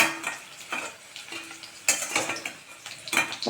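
Okra sautéing in oil in a pan for a tamarind curry, with scattered utensil clatters and scraping against the pan over a soft, uneven sizzle, close by.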